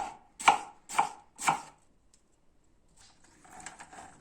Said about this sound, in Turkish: küçük küçük doğruyoruz